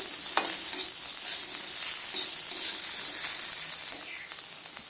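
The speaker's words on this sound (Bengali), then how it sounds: "আরও একটু সুন্দর করে ভেজে নিচ্ছি" Steady, close sizzle of vegetables frying in a pan, a bright continuous crackle with occasional light scrapes of stirring; no voices.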